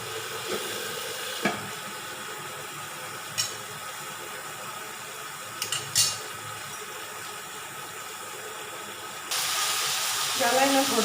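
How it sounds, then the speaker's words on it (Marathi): Cluster beans sizzle gently in a hot oiled frying pan with occasional utensil clicks, then a small splash of water hits the pan and the sizzling suddenly swells into a louder, hissing burst of steam. "असं थोडंसं चटका मारायचा पाण्याचा आणि झाकून घ्यायची बघा"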